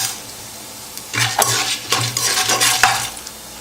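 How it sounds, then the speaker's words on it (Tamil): Chana dal and urad dal fry in hot oil inside a pressure cooker, with a soft sizzle under several clanking stirs of a metal spoon against the pot. "பருப்புலாம் நல்லா பொன்னிறமாக வறுந்து வரணும்"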